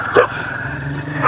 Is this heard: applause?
no